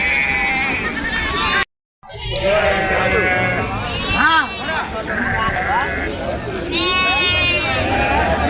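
Sheep and goats bleat repeatedly, loud and close, amid a noisy crowd at the Kunta livestock market near Ongole, India, with people talking throughout.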